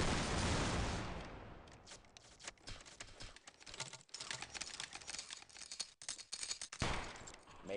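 Musket volley fired by a line of soldiers in the multiplayer game BattleGrounds 2, an opening loud roar that fades into a ragged crackle of scattered shots and clatter.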